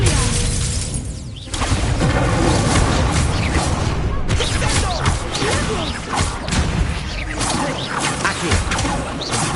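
A fire spell cast in Hogwarts Legacy erupts in a loud crackling, shattering burst with whooshing sweeps, sustained and dense over game music and effects.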